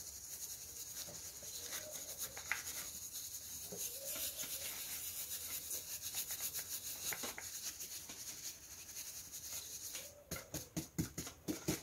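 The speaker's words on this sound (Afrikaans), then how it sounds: "omdat ek my verfkwas redelijk vol geloud het, die eerste keer is daar baie verf" A paintbrush loaded with paint is stroked across a surface, giving a soft, faint, repeated scratchy rubbing with steady rhythm.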